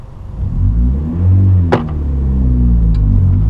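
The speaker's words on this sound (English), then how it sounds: "rev it up that high and let it out" A manual-transmission car engine revs high with a steady low rumble, then the clutch is let out with a sharp knock and surge midway, the engine note continuing under load afterward.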